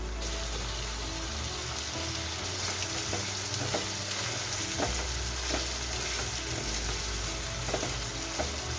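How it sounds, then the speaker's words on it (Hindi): Diced potatoes with ginger garlic paste fry on high flame in a constant loud sizzle, with occasional soft scrapes and taps from stirring and no talking. "अभी हम हाई फ्लेम पे इसे फ्राई करेंगे।"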